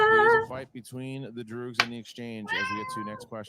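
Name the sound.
pet cat meowing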